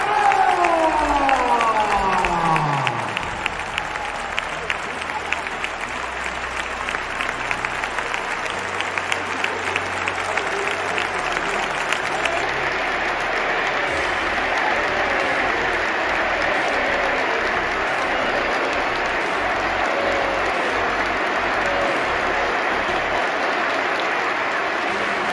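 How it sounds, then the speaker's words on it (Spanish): Stadium crowd at the Santiago Bernabéu giving a long ovation to departing Real Madrid players Karim Benzema and Marco Asensio: a loud, sustained roar of cheering and clapping that fills the whole stretch, with whistles and voices inside the mass of sound. "se llevó tremenda ovación del Bernabéu"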